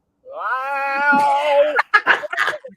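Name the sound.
cat meowing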